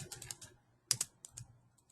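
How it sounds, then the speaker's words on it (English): Quick, light clicks of a computer keyboard as a patient's name is typed into a form, several irregular bursts of keystrokes with short pauses, close and quiet, no talking. "start typing in your patient's name"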